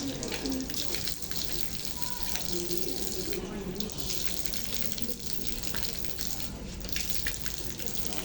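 A faucet runs steadily during ablution while water is drawn into the nose, a constant close splashing flow with a voice speaking faintly beneath it.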